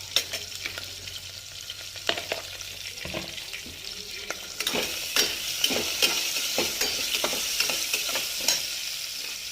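Ingredients for coconut milk rice, including carrot, lightly fried in a pan, with a continuous sizzle and irregular stirring scrapes and taps close by.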